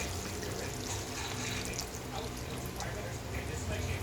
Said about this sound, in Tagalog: ilalagay ko na din yung kakang gata